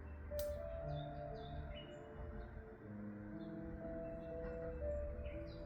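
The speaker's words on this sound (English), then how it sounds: "We can listen to the birds in the background." Birds chirp and sing outdoors in the morning, scattered faint calls and short whistled phrases over a soft low background hum, with no talk.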